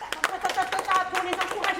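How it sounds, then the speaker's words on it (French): Children at a design thinking workshop during a GreenTech hackathon clap in scattered, uneven bursts, close by, with voices chattering over the claps. "on applaudit déjà avant la présentation."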